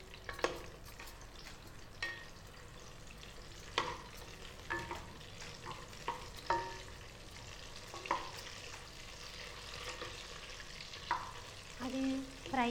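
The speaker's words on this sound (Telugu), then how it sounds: "ఈ మిరపకాయలు దీంట్లో వేయాలి, ఫ్రై చేయాలి." Whole green chilies frying in hot oil for a vegetarian mirchi masala, a faint continuous sizzle broken by irregular spoon scrapes and taps against the pan, no talk.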